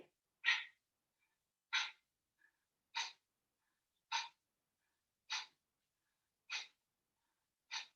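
Kapalabhati yoga breathing: seven sharp, forceful nasal exhalations evenly spaced about a second apart, close and isolated against silence.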